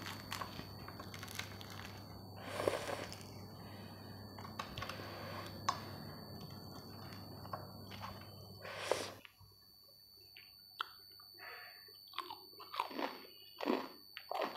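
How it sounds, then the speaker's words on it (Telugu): Crunchy, golden-fried Nellore bondas are bitten and chewed close to the mic, a series of sharp crisp crunches in an irregular rhythm, louder in the first half and quieter, sparser bites later. "నెల్లూరు బోండాలంటే మెత్తగా ఉండకూడదు, ఇట్లా క్రంచీగా ఉండాలి. చూడండి ఇప్పుడు టేస్ట్ చేస్తున్నా."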